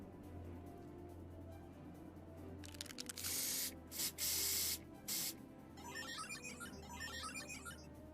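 Spray paint in Final Fantasy XIV hisses in several short bursts, loud and near, separated by brief pauses. A faint low hum runs underneath, and a tinkling chime follows.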